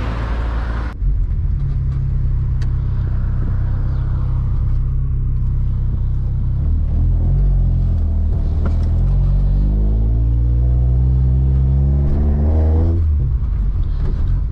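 A Volkswagen 16v engine fitted with an extra crankcase breather pulls through the gears on a test drive, a steady loud engine drone rising in pitch as it revs, with rumbling road noise throughout and no talking.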